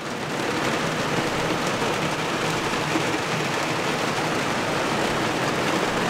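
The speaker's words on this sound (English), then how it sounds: "Okay, it is raining pretty good." Heavy rain pours steadily around a 2020 Toyota Tundra TRD Pro, a loud, constant broadband hiss with no breaks across the whole stretch.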